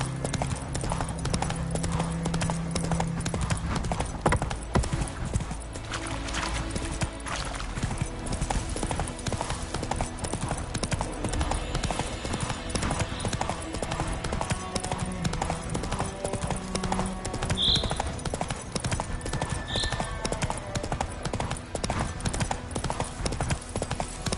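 Roach, a horse in The Witcher 3, trots with steady, close clip-clopping hooves, layered over continuous game music and ambience, with a brief voice heard in the mix.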